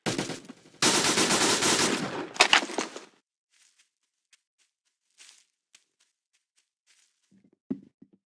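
Loud bursts of automatic gunfire from the video game Roblox, two rapid volleys early on, then silence with faint scattered clicks and a soft thud near the end.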